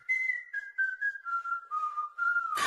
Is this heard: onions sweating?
no